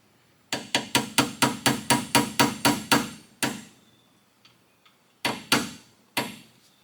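A hammer strikes metal in a quick run of about eleven evenly spaced, ringing blows, then a pause, a few faint taps and three more sharp hits close by, with no talking.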